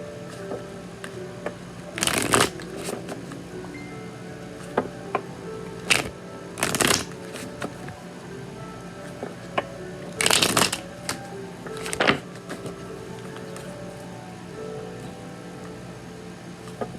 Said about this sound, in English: I have a weird way of shuffling.